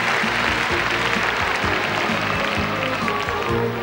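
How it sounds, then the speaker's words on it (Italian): Crowd applause at an Italian dog show as children cheer an Alaskan Malamute, a steady dense wash of clapping and crowd noise throughout, with low murmuring and movement underneath. "Ho sentito un grande applauso dei bambini nei confronti dell'Alaskan Malamute"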